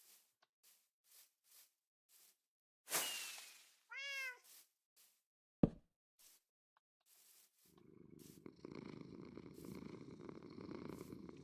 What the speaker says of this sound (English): Bro, this cat is just purring.